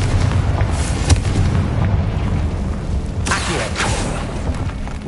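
In the Hogwarts Legacy video game, a Confringo fire spell lets off loud booming blasts, with a sharp burst near the start and a heavier explosive rush partway through over a continuous rumbling game background.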